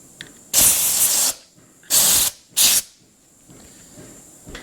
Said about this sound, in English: I'm just going to hit that with a little bit of brake clean. Blow it dry inside there.